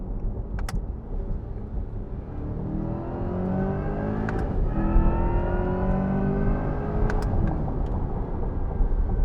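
A 2024 Corvette E-Ray's 6.2-litre LT2 V8 in sport mode accelerating hard from inside the cabin, its rumble climbing through the gears with rising pitch sweeps and brief shift breaks.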